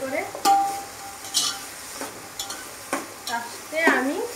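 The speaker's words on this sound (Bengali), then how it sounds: "এটাকে আমি ভেজে নিচ্ছি ভালো করে।" Rice fries in ghee in a pan for vegetable fried rice, with a low sizzle under clattering spoon scrapes and knocks. Faint voice-like sounds are heard.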